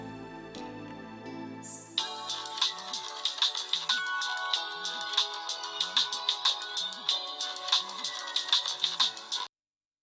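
A repeating electronic ringback tone on an outgoing phone call plays in a steady rhythm of short bright pulses for several seconds, then cuts off abruptly.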